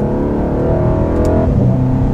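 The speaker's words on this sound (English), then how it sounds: "That exhaust is insane. Every gear change, there's like a little gurgle on it." 2019 Mercedes-Benz C63 S AMG exhaust note under acceleration, a steady close engine roar that briefly drops and shifts pitch during a gear change, with a slight gurgle on the shift.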